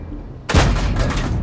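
Skoda T25 tank gun firing in a video game: a sudden loud boom lands about a third of the way in, then a long, dense rumbling roar that stays high for the rest of the moment without fading.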